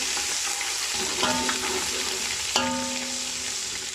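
Sliced onions frying with ginger garlic paste for chicken yakhni pulao, a steady close hiss of oil with two brief clinks of a spoon against the pot partway through, no voices.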